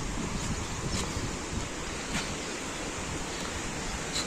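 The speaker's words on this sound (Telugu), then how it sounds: "డ్యామ్ వాటర్ ఫ్లో చూడండి కిందకి" Water pours through the gates of the Bhainsa village dam as a steady, broad roar and rush, loud and constant with light wind buffeting, and no talk.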